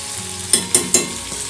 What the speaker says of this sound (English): Then we are going to fry it thoroughly.